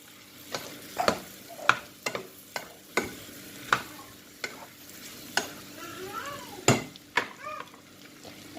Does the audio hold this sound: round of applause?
no